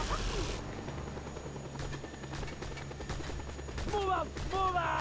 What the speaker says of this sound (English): More fucking helicopters, too.